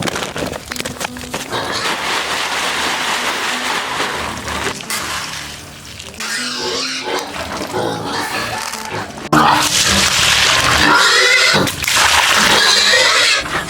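A sow and three piglets squeal loudly and continuously at feeding time in a pig pen, a harsh, close chorus that surges louder near the end.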